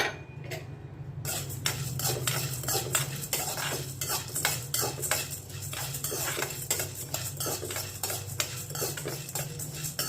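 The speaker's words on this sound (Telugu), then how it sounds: "ఇవి దోరగా వేయించుకోవాలి" Black pepper and coriander seeds dry-roast in a pan while a utensil scrapes and clinks against the metal in a quick, regular stirring rhythm over a low steady hum, close up and with no voices.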